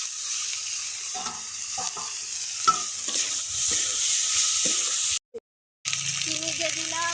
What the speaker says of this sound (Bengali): পাঁচফোড়ন দিয়ে দিয়েছি তেলে, এই যে দিয়ে দিলাম